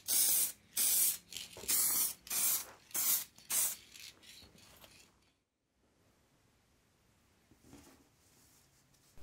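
Spray painting Triumph TR7 boot parts after rust converter and primer: about six loud, close hissing bursts from a spray gun in quick succession, then silence and a faint final puff.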